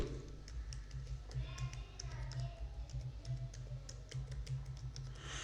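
Quiet, rapid keystrokes on a computer keyboard as text is entered into an Excel spreadsheet cell, an irregular stream of light clicks over a low steady hum.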